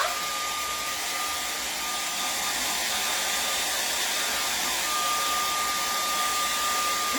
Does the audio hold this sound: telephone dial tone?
no